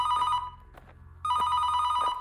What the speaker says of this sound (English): You get a phone call.